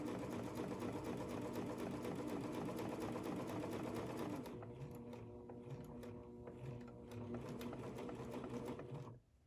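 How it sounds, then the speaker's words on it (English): Sewing machine stitching rayon dress fabric off the edge, a fast steady mechanical whir that drops in speed midway, continues more slowly, then stops abruptly near the end. "I'm going to stop, turn it, and stitch right off the edge of the fabric."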